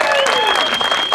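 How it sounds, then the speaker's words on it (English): A crowd at a senior softball day event applauds the senior softball players, a brief burst of steady clapping with a faint voice or whistle-like tone running through it. "one more round of applause for our wonderful senior"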